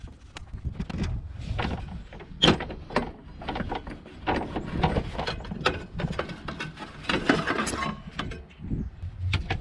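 Wrenching on the fan pulley nuts of a Jeep Cherokee XJ while the belt is kept tight, with scattered metallic clicks, ratcheting and knocks in an irregular close-up series, nearby and moderately loud.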